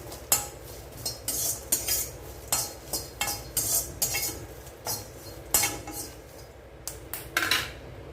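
Garlic being dry-roasted for spicy idli podi, stirred in a pan with a metal spoon: repeated sharp scraping and clinking strokes in an irregular rhythm, close and fairly loud, with no talk.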